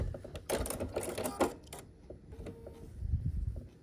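A sewing machine runs in short bursts while stitching a diagonal seam across a quilt block, its rapid mechanical chatter stopping and starting close by, with soft handling noises between runs.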